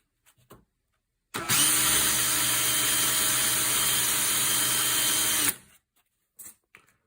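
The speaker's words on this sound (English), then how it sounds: "So I'm going to quickly deburr that." A power tool deburrs a metal part from a Joseph Lang & Sons shotgun during a misfire repair, a steady high-pitched whirring grind running about four seconds, close and loud, with brief quiet handling noises before and after.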